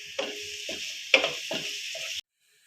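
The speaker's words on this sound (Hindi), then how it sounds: "हमने जो फ्रोज़न पराठे लिए हैं वो अब हम इस पर फ्राई करेंगे" Frozen paratha frying on an oiled tawa, a steady broad sizzle broken by several short scraping or pressing bursts, close and fairly loud, cutting off abruptly near the end.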